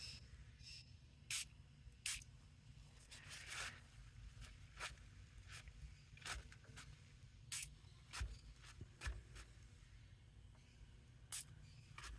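Short bursts of spray hiss at irregular intervals, several quick squirts from a hand sprayer against a low steady background hum.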